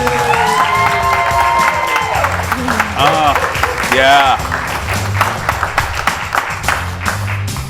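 A studio audience claps and cheers loudly while whoops and shouted voices rise over the steady applause, with a brief spoken exclamation mixed in.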